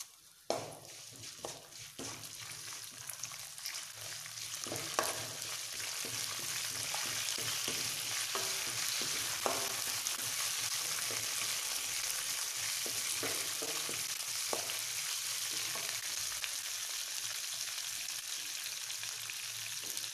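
Curry leaves and dried red chillies roast in a pan for a gravy, a continuous soft sizzle and crackle with scattered pops and the occasional scrape of stirring.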